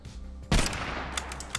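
Gunfire in the VR video game Pixel Baller Parade, a sharp loud shot followed by several quicker bursts, with no talk over them.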